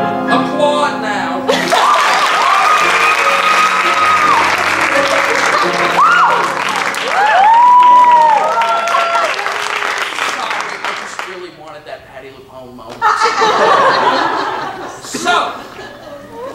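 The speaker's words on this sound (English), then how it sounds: "Applaud now." Theatre audience applauding after a song, a full wash of clapping mixed with laughter and whoops that swells, dips briefly, then surges again before tapering off.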